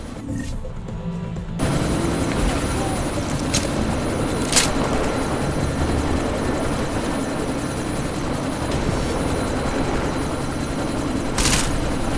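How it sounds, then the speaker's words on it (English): Helicopter rotor noise rumbling loud and steady in the Deus Ex: Mankind Divided video game, rising sharply after a quieter opening with a few brief bursts on top, no talking. "That chopper's about to take off!"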